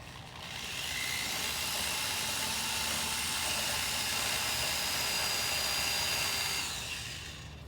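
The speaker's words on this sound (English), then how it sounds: "I'm gonna drill from the inside of the kiln to the outside." A power drill whirs continuously at high speed for several seconds, grinding steadily through a kiln wall from the inside out before spinning down.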